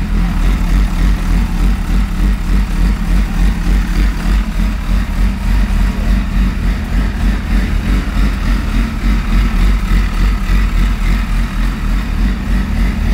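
A classic motorcycle engine runs loud and close, holding a steady, throbbing idle with a slightly rising rev, with no voices over it.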